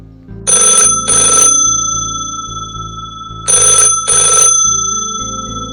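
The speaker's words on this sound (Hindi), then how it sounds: "तभी फोन की घंटी बज उठी।" A telephone rings in two double bursts, loud and close, over a low sustained musical drone.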